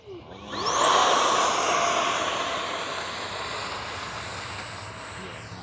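A Freewing F-22 Raptor 70mm RC jet roars past with a rising, high-pitched turbine whine that swells quickly, then settles into a steady distant drone as it flies off.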